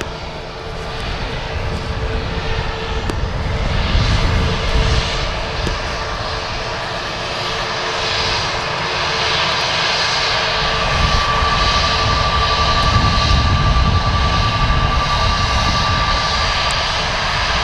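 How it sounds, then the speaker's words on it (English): Airplane slowly taxiing off the runway at Manchester Airport, a steady loud engine roar with whining tones rising and falling gently throughout, heard from a distance without talk. "Nice slow taxi there off the runway."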